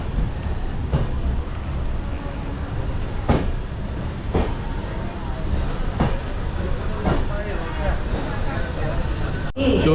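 A passenger train runs on rails between Naihati and Bardhaman, a steady rumbling roll with periodic clacks as the wheels cross rail joints, heard from inside the carriage.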